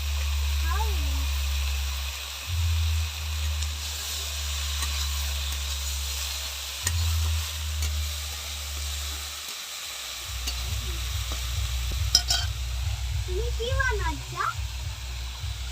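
Boiled vegetables tipped into a pan of potatoes and eggplant set off a steady sizzle of frying that runs throughout, with faint voices and kitchen clatter in the background.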